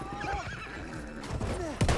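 A horse whinnies in the Battlefield 1 World War I shooter, several wavering neighs over hoof clops and battle noise, ending with a loud thump.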